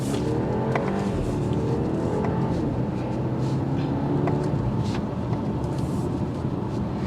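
A 2023 BMW 530i accelerates, its engine a steady rising drone with building road and wind noise, heard from inside the cabin, continuous and fairly loud, with no talking.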